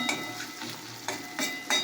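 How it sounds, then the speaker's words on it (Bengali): Fish fat fries in a pan with a close, continuous sizzle, and brief stirring scrapes land at a few points. No one speaks. "আমার তেল ভাজাটা প্রায় হয়ে এসেছে"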